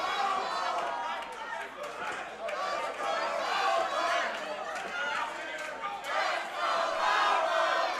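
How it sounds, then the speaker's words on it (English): Spectators at an amateur MMA fight event shout and roar steadily throughout, a dense, loud crowd din with surging peaks and voices mixed in. "Crowd getting involved here."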